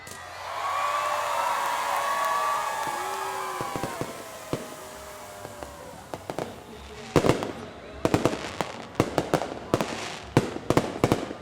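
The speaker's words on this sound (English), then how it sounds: "Now I'm gonna go check out the tree lighting and fireworks." Fireworks at a December holiday tree lighting start as a rising whistling roar, then break into a rapid series of sharp, loud crackling bangs and pops.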